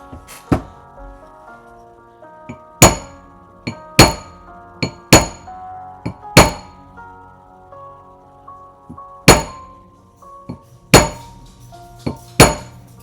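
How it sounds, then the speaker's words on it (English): Sharp metallic chasing hammer strikes on a metal ring ring out one at a time at an uneven pace, each blow leaving a bright lingering clink, close and loud. "I'm going to do that with a chasing hammer to get sort of a larger pattern."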